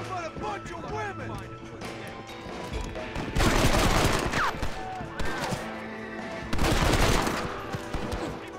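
Gunshots in Red Dead Redemption fire as several sharp loud cracks in bursts, with the heaviest volleys near the middle and toward the end, over background music and game noise.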